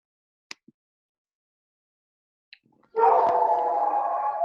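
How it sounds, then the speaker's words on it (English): A pet dog heard over a muted online call: a couple of faint isolated clicks, then a loud sustained howl-like bark starts abruptly and carries on for over a second, close to the microphone with no talking. "sorry, that was my dog"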